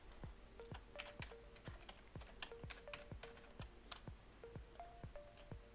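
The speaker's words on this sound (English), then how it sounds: "So I'll type in a password." A password is typed on a computer keyboard, a quick, regular run of close, crisp key clicks with short pauses, and no voices.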